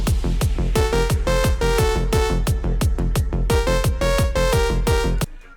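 Excerpt of a drum and bass track, heavy repeated kick-driven beat with bright stabbing synth chords in a steady pulsing rhythm, loud and clean with no voices, cutting off abruptly near the end.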